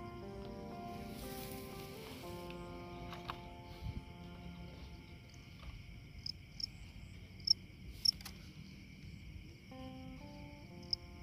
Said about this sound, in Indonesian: Ini ramai banget, guys, suara jangkriknya.